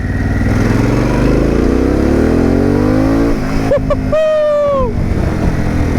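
A Harley-Davidson Pan America motorcycle in sport mode pulls hard in second gear, its engine note rising loudly and steadily before the revs drop at a shift, with a voice briefly exclaiming over the engine.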